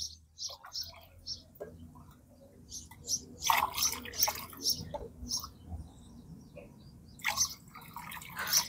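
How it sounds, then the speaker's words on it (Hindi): Granular fertilizer being stirred into water in a container for potted kalanchoe plants, giving small splashy drips and clinks that come in bursts, close and moderately loud. "इसके बाद हम बहुत ही अच्छा से मिक्स कर लेंगे बहुत अच्छे से हमको मिक्स कर लेना है"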